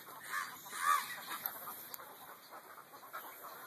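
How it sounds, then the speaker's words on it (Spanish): Hundreds of seabirds call over Isla de Pájaros off Mazatlán, a faint, steady chorus of overlapping honking and squawking cries with no voices, rising briefly louder near the start. "Porque hay cientos de aves por aquí."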